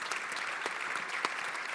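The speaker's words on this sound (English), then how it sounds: "Give these gentlemen a round of applause." Steady applause from a conference audience for the panelists at the 2016 Detroit Policy Conference, a dense even wash of clapping heard at moderate distance with no talk over it.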